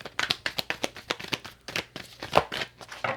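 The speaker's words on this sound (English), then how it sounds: "Just gonna give it 2 more shuffles." Tarot cards are shuffled by hand, a quick run of crisp riffling and tapping bursts in an irregular rhythm, close and fairly quiet.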